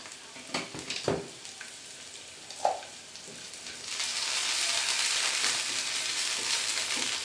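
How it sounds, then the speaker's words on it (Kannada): Onions and green chillies frying in a pan with ginger garlic paste, giving a steady, close hiss of sizzling that swells and holds, preceded by a few scattered stirring clatters. "ಈಗ ಈರುಳ್ಳಿ ಮತ್ತು ಹಸಿಮೆಣ್ಸಿನ್ಕಾಯಿ ಎಲ್ಲ ಚೆನ್ನಾಗಿ ರೋಸ್ಟ್ ಆಗಿದೆ"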